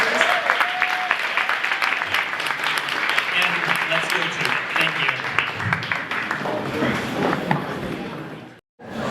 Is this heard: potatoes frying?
no